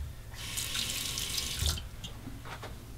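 Running tap water rinses a straight razor during a one-handed shave, a soft steady splashing stream for about a second before stopping, followed by a few faint drips and small clicks.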